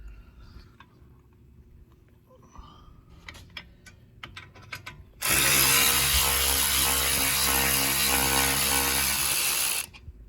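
An impact gun loosening the brake caliper bolts on an Audi A8, a few light clicks and taps followed by a loud sustained burst of rattling hammering that lasts several seconds and then stops.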